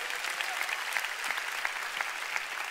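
A church congregation applauds together during a worship service, a steady dense wash of many hands clapping at moderate, fairly distant volume with no other sound.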